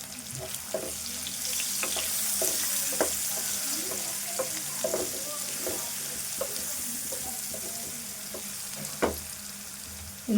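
Onions frying in a pan for chicken masala soup make a continuous close sizzle, with irregular spoon taps and stirring clicks scattered throughout and a sharper knock near the end.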